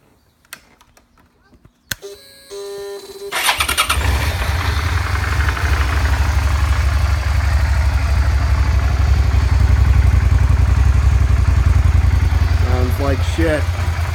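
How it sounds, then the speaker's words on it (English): A 2008 Suzuki SV650S motorcycle with its stock exhaust starts up after a few clicks, then settles into a loud, steady idle that continues close by for over ten seconds. "SV650s, shitty stock exhaust."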